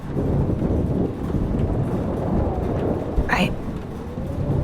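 A thunderstorm in the video game Life Is Strange rumbles as a steady wash of rain and wind noise, with a brief sharper crackle partway through and no clear speech.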